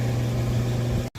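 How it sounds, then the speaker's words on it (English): An air conditioner runs in a workshop where cylinder heads from a 3VZ-E engine are being rebuilt, a loud steady low hum that cuts out briefly near the end. "that sound you hear is my fancy air conditioner over there"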